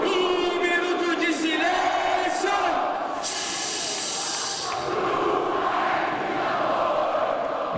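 Futsal supporters celebrate with their team after an extra-time goal clinches qualification: a dense, loud crowd roar with shouted chanting and yelling that holds steady for several seconds.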